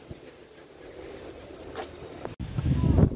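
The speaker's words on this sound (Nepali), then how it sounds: "यो घमाइलो दिन मस्त हावा चलिरहेछ" Wind gusts across the microphone on a sunny hilltop hiking trail, a steady rushing noise that swells louder and rougher toward the end.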